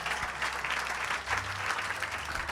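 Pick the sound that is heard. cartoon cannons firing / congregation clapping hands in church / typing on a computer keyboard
congregation clapping hands in church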